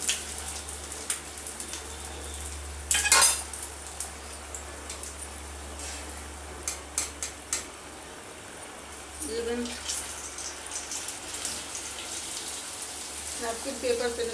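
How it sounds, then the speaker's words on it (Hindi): Puris frying and bubbling in ghee in a home kitchen for breakfast: a steady, faint crackling sizzle with scattered pops runs throughout, and a voice can be heard briefly in the middle and near the end. "और ये घी में भी ये देखिए आप बबल्स आ गए हैं खूब सारे, और ये घी भी अब अलग होने लगा है फ्रेंड।"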